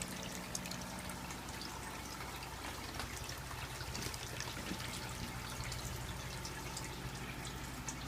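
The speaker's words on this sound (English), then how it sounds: "As you can see, got some good bubble action going on in there." Steady bubbling and trickling water inside a hydroponic cloner in a flower grow tent, a continuous close gurgle with no speech over it.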